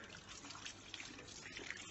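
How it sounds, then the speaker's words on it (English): Warm tap water runs in a soft, steady trickle for handwashing in a healthcare setting, faint and continuous throughout with no other sounds. "Wet your hands thoroughly under warm running water"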